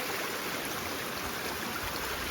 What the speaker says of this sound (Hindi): ये बाकी पानी आ रहा है गदेरे से